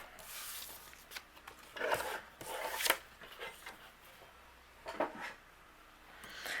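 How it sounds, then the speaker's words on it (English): Patterned paper with a polka dot print being trimmed to card size, giving a few soft rubbing, sliding cuts in short bursts, faint and close with quiet gaps between them. "We're going to trim this down to 3 3/4 inches by 5 inches."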